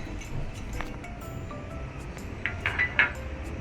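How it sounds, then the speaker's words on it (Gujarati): Peanuts go into a pan with a couple of green chilies while batata vada is being made, giving a few light clinks and rattles near the end over a low background hum. "હવે આની અંદર થોડી શીંગ નાખીશું"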